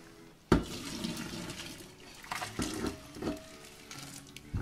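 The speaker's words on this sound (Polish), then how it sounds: "i wylewam po prostu. Oczywiście ostrożnie, wrzątek, wiadoma sprawa." Boiling water with dye pours out of a pot after dyeing silk laps for felting, a sudden splash followed by several irregular sloshing gushes, close and without talk.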